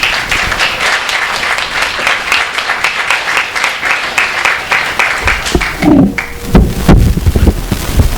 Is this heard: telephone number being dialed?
no